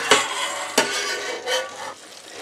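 Ravioli filled with feta and crab sizzles in butter in a hot pan, with a steady frying crackle broken by a few sharp scrapes of a utensil against the pan.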